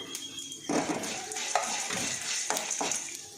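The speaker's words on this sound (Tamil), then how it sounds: "சீரகம் போட்டு இறக்கிற வேண்டியதுதான் இந்த அளவுக்கு வறுக்கணும்" Cumin seeds roast in a pan with a steady dry sizzle, broken by several scraping stirs from a spoon against the metal. The stirring is close and moderately loud, and no one speaks.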